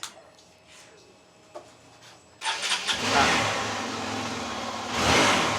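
Faint background sounds give way to a motorcycle engine cranking and catching, then settling into a steady, loud idle with a short rev near the end.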